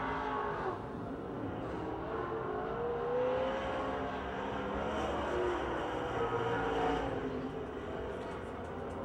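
A Pontiac Grand Prix race car laps Pennsylvania Motor Speedway, its engine a distant droning roar that rises and falls in pitch as it circles, heard under a loudspeaker announcer's voice.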